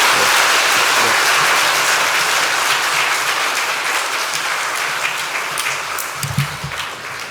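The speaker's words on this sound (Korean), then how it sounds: "우리 이춘근 박사님한테 다시 뜨거운 박수 한번 부탁드리겠습니다." A lecture audience applauds after the talk with a full, sustained burst of clapping that slowly thins out over several seconds.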